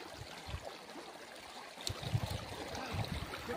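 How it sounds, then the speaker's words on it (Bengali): Waterfall in the forest near Totopara, Alipurduar, gives a soft, continuous rushing flow in the background, with a few low knocks and faint movement nearby. "ঝর্ণার আওয়াজ পাওয়া যাচ্ছে"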